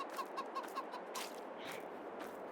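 Chickens on a farm in Farming Simulator 22 cluck softly, a short run of rhythmic clucks followed by scattered faint calls, quiet and somewhat distant with no talking.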